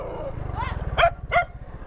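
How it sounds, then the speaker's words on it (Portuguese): Dogs on a street give two short, sharp barks close by, following a whimpering yelp, over a low rumbling background with a voice briefly heard. "Olha o cachorro."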